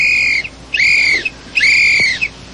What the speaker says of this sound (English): Bob, I love your whistle.